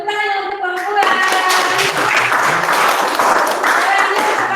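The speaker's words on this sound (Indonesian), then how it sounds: "Ya, tepuk tangan untuk perempuan." A group claps and applauds together for several seconds, a dense patter of hands following a brief spoken line.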